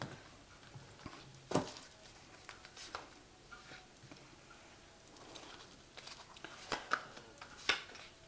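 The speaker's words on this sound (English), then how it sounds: "I'm just going to cut the cards." Tarot cards are cut and handled, giving faint soft clicks, taps and rustles scattered irregularly over a quiet room background.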